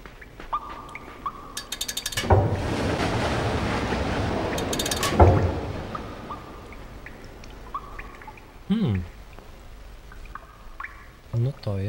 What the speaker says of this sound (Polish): Puszczenie w tym momencie wody.